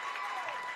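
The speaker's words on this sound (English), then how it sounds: "That excites the crowd here." A high school basketball crowd applauding and cheering after an alley-oop dunk, a brief dense wash of clapping and voices heard from within the gym.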